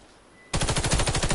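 Rapid automatic FAMAS rifle fire in the video game Warface, loud and close, beginning abruptly after a quiet moment and continuing as a steady burst of shots.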